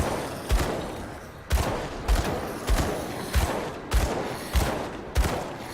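Weapon shots ring out in the action RPG Grim Dawn, a string of sharp, punchy blasts about every half second with brief gaps, loud and alone.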